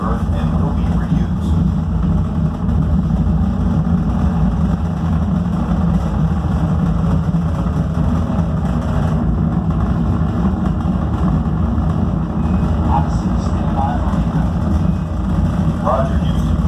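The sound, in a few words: space shuttle engine roar in a launch simulator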